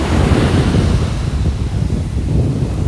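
Ocean waves washing up on a beach, a steady broadband rush of surf with gusts of wind buffeting the microphone throughout, close and fairly loud with no talking.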